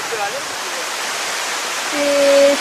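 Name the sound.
large waterfall in Fouta Djallon, Guinea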